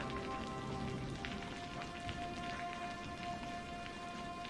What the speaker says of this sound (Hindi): देखो तो बाहर अचानक मूसलाधार बारिश शुरू हो गई है